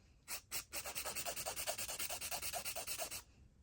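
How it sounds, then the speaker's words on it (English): Rapid, regular back-and-forth rasping as a nail file works over acrylic nails from a Kiss acrylic kit, about twenty close, even strokes before stopping. "Just gonna keep filing."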